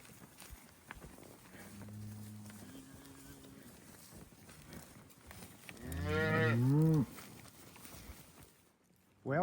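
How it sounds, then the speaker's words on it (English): Cows and calves moo over a low background rumble on a desert ranch, a few soft lows early on and then one long, loud, close moo. "keeping these cows and calves straight is a pain"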